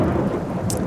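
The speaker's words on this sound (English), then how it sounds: "it's absolutely throwing it down with rain" Heavy rain pours down in a dense, steady roar, with a brief brighter splash near the end.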